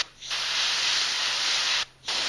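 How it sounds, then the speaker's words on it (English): An airbrush sprays paint onto an MG Sazabi model kit in a steady close hiss, cutting off briefly near the start and again shortly before the end before resuming. "If everything's spraying the way I want it and I'm not having an issue with my airbrush, it goes pretty quick"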